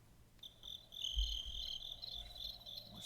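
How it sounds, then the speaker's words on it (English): Crickets chirping in a steady, faint high trill that runs continuously, with a low rumble underneath and no voices. "Let's do crickets."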